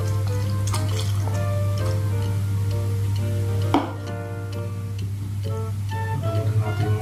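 Vinegar is poured into a cooking pot for fish paksiw cooked in coconut milk, making a steady running-liquid splash over a constant low hum, with a brief clunk partway through.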